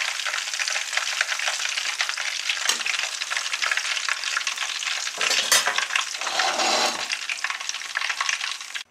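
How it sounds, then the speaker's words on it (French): Fish sizzles and crackles steadily in hot oil, a dense, continuous frying hiss that briefly dips and swells around the middle as pieces are lifted out to drain. "ça fait plus d'un quart d'heure que notre poisson a pris dans l'huile"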